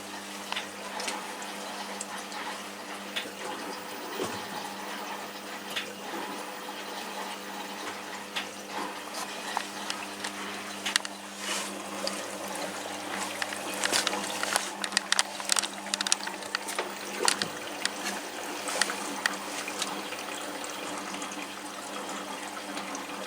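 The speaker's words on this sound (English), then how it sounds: "I'll just put it on another rinse to get any bits out." Washing machine on a rinse cycle, drawing water in: a soft, continuous hiss and trickle of filling with a low mechanical hum, plus scattered faint clicks and sloshes, steady and fairly quiet with no talking.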